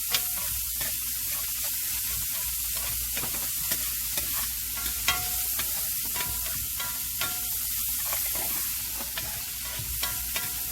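Chopped garlic sizzling in a pan for meatballs in marinara sauce, a steady close crackle and hiss with light scraping taps from a spoon throughout.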